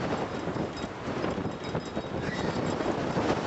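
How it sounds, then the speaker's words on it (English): Strong outdoor wind gusts buffet the microphone in a steady, loud broadband roar with no talking. "This wind is blowing absolutely hard."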